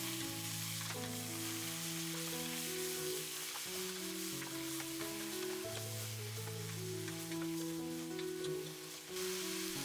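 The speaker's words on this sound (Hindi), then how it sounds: "गोश्त को प्याज और अदरक लहसुन के मिक्सचर के साथ अच्छे से मिलाएं।" Mutton fries with an onion, ginger and garlic mixture, giving a continuous soft sizzle and crackle that holds steady and stays fairly quiet throughout, with no voices.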